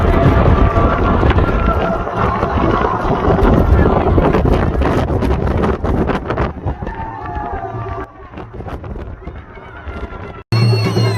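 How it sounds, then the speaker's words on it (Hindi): Strong wind gusts buffet the microphone in the Kalash Valley of Chitral during the Chilam Joshi festival, a loud, rough, steady roar with crackling bursts, while voices and bird-like calls sound beneath it before a sudden cut. "तेज हवाएं चल रही है।"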